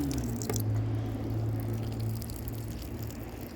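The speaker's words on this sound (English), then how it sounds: "I want to water them in very carefully" Water trickles and splashes gently onto potted wild strawberry seedlings, a steady close liquid patter with soft drips and no talking.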